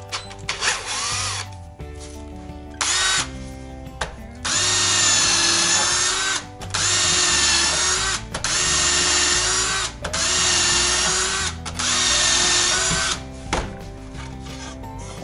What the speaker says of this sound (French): Si tu n'as pas de petite mèche pour forer un trou, tu peux très bien utiliser un clou.